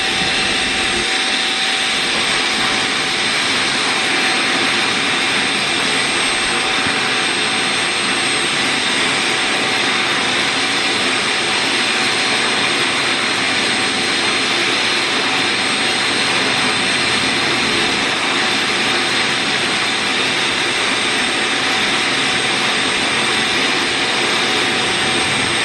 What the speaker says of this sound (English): I'm gonna have to hook up the vacuum and do the cleaning again